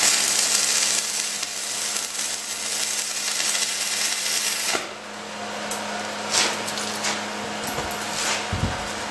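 Old shielded metal arc stick welder laying beads on a welding table built from junk steel, a loud continuous crackling hiss that thins midway with intermittent pops.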